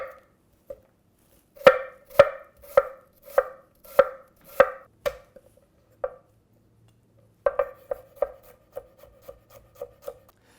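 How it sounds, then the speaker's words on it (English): Garlic and onion chopped with a knife on a board, a quick series of sharp, close chops in two bursts separated by a short pause, with no talking. "I chop the garlic and the onion the same way."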